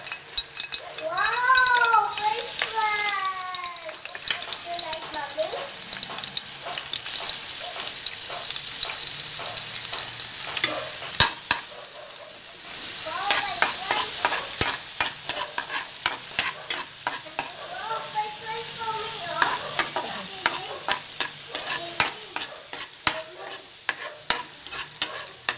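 Garlic sautés in a hot pan for mixed vegetables, giving a steady, close sizzle with repeated stirring scrapes. Meow-like cries rise over it at intervals.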